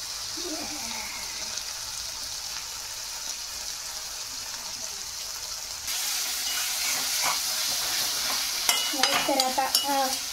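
Schezwan fried rice is stirred in a hot pan, with a constant hiss of frying that grows louder partway through, then a few quick scraping knocks near the end.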